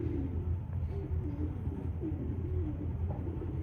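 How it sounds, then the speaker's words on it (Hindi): Pigeons cooing outdoors near a goat pen, a soft repeated low warble over a steady background rumble, with no talking. "ये जो कबूतर है"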